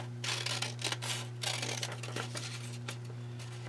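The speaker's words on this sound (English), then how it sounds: "So we're going to cut this out." Scissors snipping through a sheet of printed paper at close range, a run of quick crisp cuts in bursts with brief pauses, over a steady low hum and no talk.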